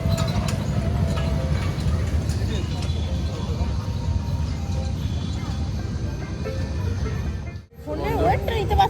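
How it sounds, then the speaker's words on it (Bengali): A wheeled road toy train touring the streets at a crowded fair, a steady mechanical rumble and hum moving close by amid busy crowd chatter, with a brief break near the end. "দেখো বন্ধু, ট্রেন যাচ্ছে আবার,"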